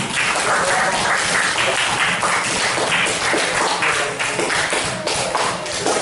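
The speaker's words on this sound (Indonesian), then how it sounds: "Oke, beri aplaus saja dulu" A classroom of students applauding after a group answers a math question, a dense, steady patter of clapping hands lasting several seconds, no speech over it.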